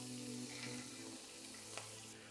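Rice sautéing in a pan for lemon risotto as lemon juice goes in, a faint steady sizzle with a few soft stirring scrapes.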